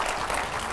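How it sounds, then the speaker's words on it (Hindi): Dense, steady audience applause at a televised political discussion show, a short continuous burst with no talk over it. "जोरदार तालियां हो"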